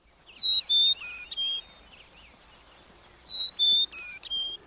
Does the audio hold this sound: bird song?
yes